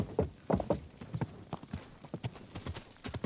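Horse hooves clip-clop on the ground in the medieval game Kingdom Come Deliverance 2, a fairly quiet run of irregular close hoofbeats with a few louder clustered steps early on.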